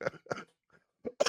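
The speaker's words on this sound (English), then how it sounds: "Strong cough I have there." A person coughs several times in quick, harsh bursts, with a short pause before the last two louder coughs.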